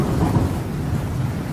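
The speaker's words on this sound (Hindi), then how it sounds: "तभी बाहर जोर से बारिश और तूफान आने लगता है" Heavy rain pours steadily in a thunderstorm, with a dense, rumbling roar filling the short stretch and no voices.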